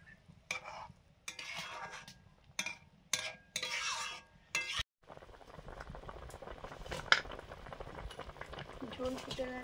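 Curry broth with green chillies boiling in a pot for a katla fish curry, starting with a few short bursts of bubbling and clatter separated by gaps, then settling into a steady, soft simmering burble.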